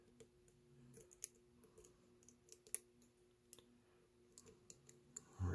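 Faint, scattered small metallic clicks and ticks from picking an Ace solid brass high-security padlock, irregularly spaced and close, ending in a louder knock, with no voice.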